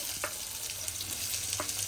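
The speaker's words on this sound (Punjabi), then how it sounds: "ਹੁਣ ਅਸੀਂ ਸਭ ਤੋਂ ਪਹਿਲਾਂ ਪਾਵਾਂਗੇ ਪਿਆਜ਼" Onions added to hot desi ghee with roasted cumin and reddened chillies, giving a steady low sizzle with a few faint scrapes, alone and without talk.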